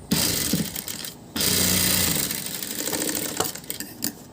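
Sewing machine top-stitching a gathered frill onto a round neckline, running in steady close bursts with brief pauses between stretches of stitching, loud and alone.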